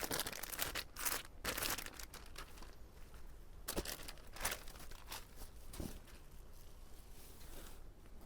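A jam-coloured litchi silk saree is unwrapped from crinkly plastic packaging, with bursts of crackling and rustling that come and go before fading to quieter handling.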